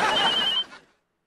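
A telephone rings indoors in a short electronic burst that cuts off after about half a second, followed by a brief fading tail. No one speaks over it.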